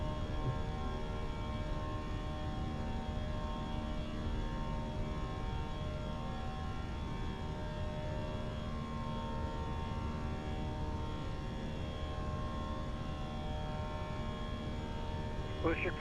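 Fenix A319 airliner jet engines in flight in a flight simulator, a steady low droning roar with a tonal whine, constant and moderately quiet throughout.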